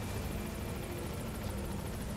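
A helicopter arriving for a pickup in the video game Metal Gear Solid V: a steady, loud rotor roar with a fast rhythmic chop, continuous throughout with no voices.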